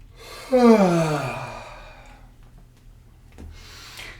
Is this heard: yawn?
yes